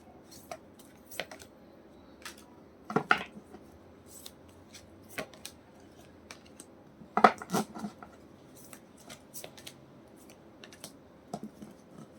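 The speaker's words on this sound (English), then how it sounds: "I'm shuffling the cards, and I will let you know all the cards that I've got" Sparse, quiet riffling and tapping of tarot cards being shuffled, with irregular bursts and long near-silent gaps between them.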